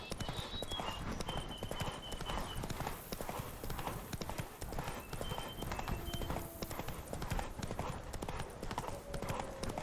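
Rapid, rhythmic horse hooves clip-clop at a steady gallop in The Witcher 3: Blood and Wine, close and continuous, with faint game tones in the background.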